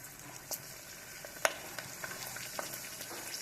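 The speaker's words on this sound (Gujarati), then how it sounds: "તો જો આ ગુંદાની હું તળું છું તો એ ફૂટે" Gunda (glueberry) pieces fry in shallow oil for a Gujarati gol keri pickle, giving a steady quiet sizzle with scattered sharp pops, one loud crack standing out, and no talking.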